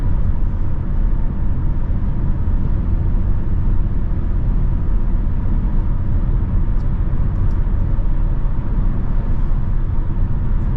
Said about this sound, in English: A little bit of wind noise, a little bit of road noise